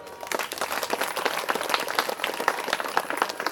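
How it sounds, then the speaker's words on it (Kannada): An audience at a felicitation ceremony for an MLA during an Ayyappa mandala event in Ballari claps steadily, a dense patter of many hands that stays fairly loud throughout. "ಜೋರಾಗಿ ಚಪ್ಪಾಳೆ"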